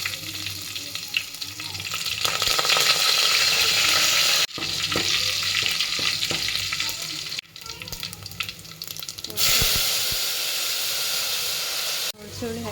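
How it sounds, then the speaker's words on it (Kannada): Spices tempering in hot oil for a tamarind saaru give a loud, close, continuous sizzle and hiss that swells and is cut off abruptly a few times. "ಒಗ್ಗರಣೆ"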